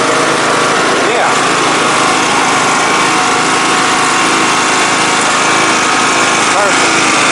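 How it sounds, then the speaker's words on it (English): A Troy-Bilt Pony 42-inch riding lawnmower engine runs steadily and loudly, a continuous close-up drone with no break, while people talk faintly beneath it. "We have a lawnmower again."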